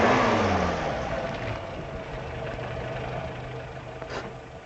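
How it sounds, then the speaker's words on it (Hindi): A car engine idles steadily as the vehicle comes to a stop, a low continuous rumble close by that fades slightly, with no talk over it. "गाड़ी रोको अनुज, देखते हैं कौन है।"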